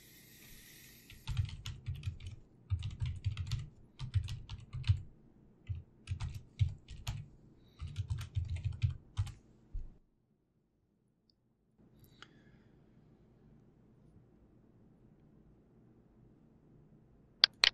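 A computer keyboard is typed on in quick bursts of close, crisp key clicks for about ten seconds, then it goes nearly silent with a couple of sharp clicks at the end.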